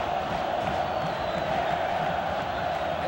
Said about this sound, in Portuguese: Torcida da Chapecoense em pé na Arena Condá, empurrando o time, grita o torcedor da Chape.